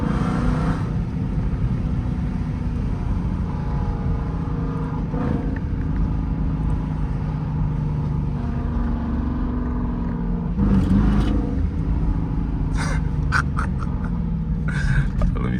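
Dodge Durango R/T with a mid muffler delete straight pipe, a deep loud exhaust drone that swells into revving bursts, close and continuous, with a voice speaking briefly over it.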